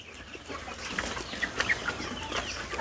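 Chickens on a farm raising native and Kadaknath poultry give scattered, soft clucks and short calls, fairly faint and with no voices over them.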